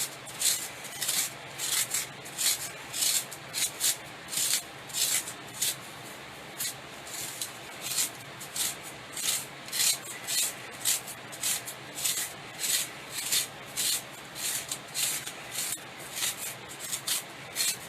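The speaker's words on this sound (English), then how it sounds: "just scrape out the foam in here. Just scrape all that out." Foam scraped out of a sculpted dog's underjaw with steady, regular strokes, each rasping pass close and distinct, repeating many times without any talking.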